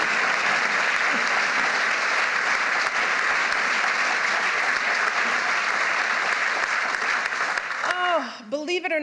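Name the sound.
applause for the portrait unveiling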